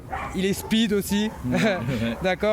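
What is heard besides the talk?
young Dutch shepherd dog barking and whining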